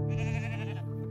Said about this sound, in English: about 70 odd ewes.